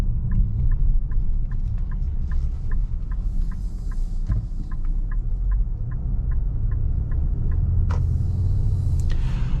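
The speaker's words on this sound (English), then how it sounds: "I'm having to put my foot quite a bit into the throttle to get this to go" Interior of a 2025 Nissan Pathfinder Rock Creek with off-road tuned suspension, driving on the road: a steady low engine and road rumble with a regular ticking like a turn signal, then a brief rustle near the end.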